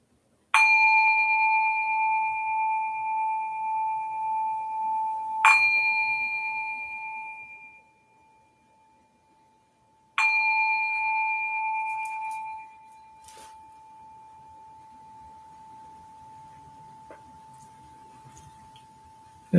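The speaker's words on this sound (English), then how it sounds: "As the sound of the bell fades, take a few deep breaths." A meditation bell at a Buddhist service, struck three times with bright ringing tones that slowly fade between strikes, the last ring dying away into quiet room sound.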